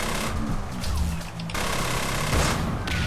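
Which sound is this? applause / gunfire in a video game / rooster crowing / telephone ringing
gunfire in a video game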